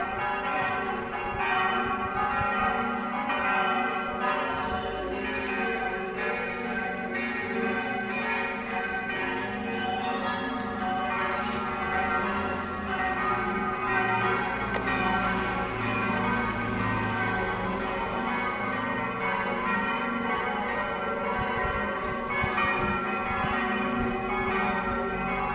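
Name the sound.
church bells ringing in Medjugorje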